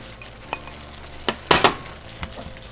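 Steak and potatoes being returned to a hot pan for bistec ranchero, a steady sizzle punctuated by several sharp clinks and scrapes of a utensil against the pan.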